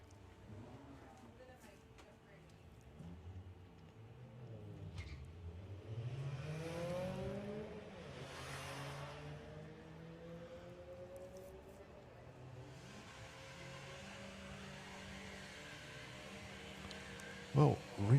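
Engines rise and sweep as a little VW and an Audi TT drag race at Santa Pod during Sportsman Nationals eliminations, fairly distant beneath a commentator's voice, ending with a few sharp knocks.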